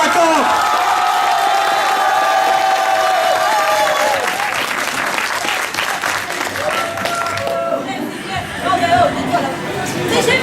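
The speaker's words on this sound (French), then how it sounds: "je vais vous demander d'applaudir très fort Pikachu si vous avez trouvé que sa prestation était convaincante" Live audience at a performance contest loudly applauding a performer dressed as Pikachu, heavy clapping mixed with chatter and whoops that thins and fades toward the end.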